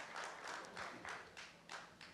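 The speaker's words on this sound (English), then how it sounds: "Clap for it." Audience applause at a Rotary business conclave in Jaipur, a steady roomful of clapping in repeated bursts lasting a couple of seconds.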